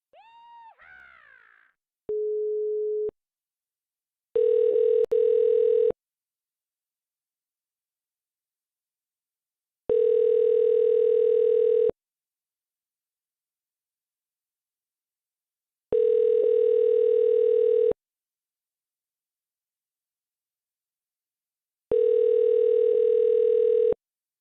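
A telephone call rings out with a short tone followed by four long, evenly spaced steady tones separated by silence, clear and electronic on the line.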